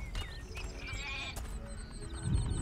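Sheep bleating in the video game Overlord, several wavering bleats at moderate volume over a steady game soundscape, with a heavier low rumble near the end.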